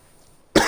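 A single sharp cough bursts out abruptly near the end after a near-silent pause.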